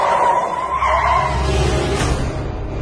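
Car braking hard on a Himachal mountain road, sliding to a stop at a bend, steady tire and road noise throughout, rumble at the end, loud and close.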